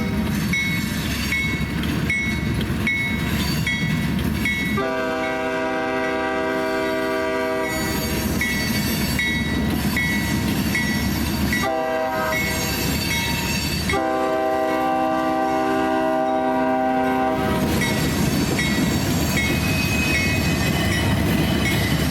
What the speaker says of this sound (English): we were immediately greeted by two trains racing up both the southeast and southwest Ys